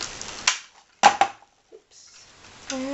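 A corner rounder punch clips the upper corner of a handmade card, giving a couple of sharp, close snaps among quiet crafting handling noises.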